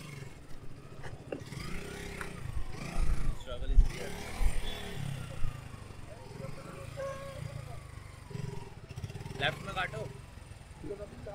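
Off-road motorcycle ridden along a rough trail in the Aravali Hills, its engine rising and falling unevenly with bumps and scrapes, while people talk and call out directions over it.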